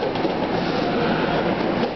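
A deadhead passenger train running back toward New York rumbles past close by, a steady, dense roar of wheels and cars with no break.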